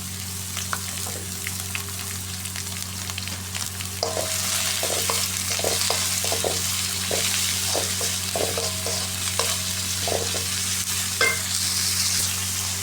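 Green chillies and coriander leaves fry in oil while being stirred, a continuous sizzle broken by repeated clicks and scrapes of the spoon against the pan, close and steady, with a faint hum beneath.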